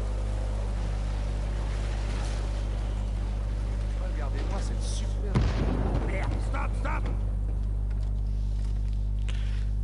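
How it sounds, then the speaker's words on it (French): A loud, sudden video game explosion in Uncharted 4 bursts out midway over a steady low rumble, followed by crackling debris; a voice talks faintly in the background. "Cette superbe explosion."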